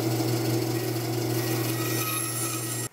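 Wood being shaped by sanding and rasping while making a hand-tool board in a workshop: a steady, close, continuous abrasive grinding with a constant motor-like hum for about three seconds, ending abruptly, with no talking.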